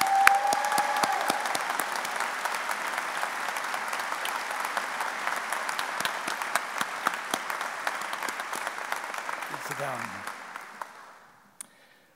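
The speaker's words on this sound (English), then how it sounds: "Let's applaud these students." An audience at a university public policy commencement ceremony applauds graduating students with sustained, dense clapping that holds steady for about ten seconds before fading out, with a brief tone at the start.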